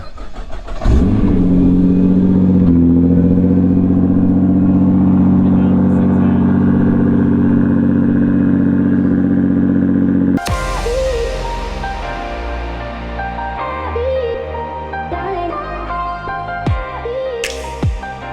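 A Nissan GT-R engine cold-starts at 7 AM with a loud, steady high idle. It then falls quieter, and several sharp revs rise and fall close by.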